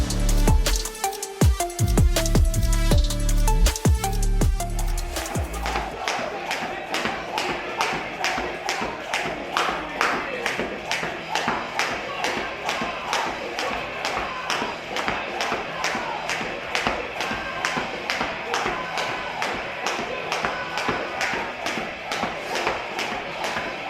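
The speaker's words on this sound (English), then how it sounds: "I'm jumping right into jumping rope" A jump rope skips steadily in Altra Escalante 4 cross-training shoes, landing in a fast regular rhythm of light taps and thuds that carries on nearly throughout after a brief busier opening, with no one talking.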